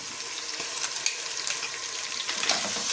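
Ginger garlic paste fries with golden onions and green chillies in a pot for a mutton pulao, giving a dense, constant close-up sizzle with faint stirring clicks.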